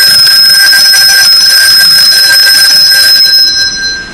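Handbell shaken rapidly back and forth, a loud sustained bright ringing with a fast tremolo pulse throughout, fading slightly at the very end.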